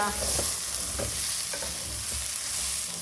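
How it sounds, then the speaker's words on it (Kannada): Soya chunk biryani mix with garam masala being stirred in a pressure cooker, a steady sizzle under repeated scraping strokes of a spoon against the metal, close and continuous with no talking. "ಕುಕ್ಕರಿಗೆ ಹಾಕಿ ಚೆನ್ನಾಗಿ ಈಗ ಒಂದು ಮಿಕ್ಸ್ ಮಾಡಿಕೊಂಡು"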